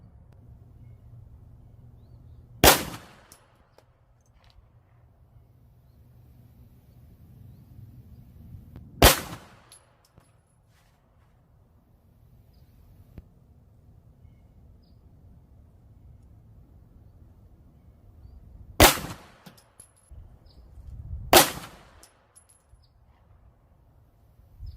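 Four sharp, loud gunshots at an outdoor shooting range, spaced several seconds apart and ringing out over a quiet, low background with no speech.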